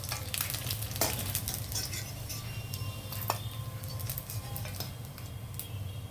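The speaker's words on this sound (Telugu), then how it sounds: "ఇప్పుడు ఎండు మెత్తళ్ళు వేపేసి తీసేయాలి మనం." Dried fish frying in hot oil, a steady close sizzle with occasional clinks and scrapes of a spoon stirring against the pan.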